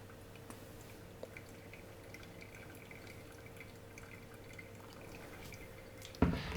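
Coffee drips steadily through a Kalita Wave paper filter, faint scattered drops over a low hum, ending in a sudden louder splash or clatter.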